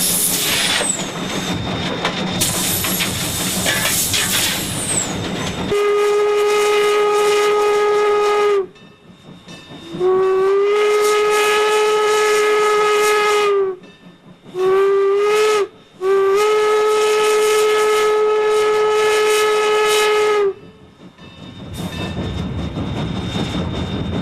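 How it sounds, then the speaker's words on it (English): A steam locomotive on a scenic hill railway blows a loud, sustained whistle in several long blasts with short breaks, preceded and followed by heavy hissing steam, close and dominant with no voices. "the steam engine pulls its way through the timeless beauty of"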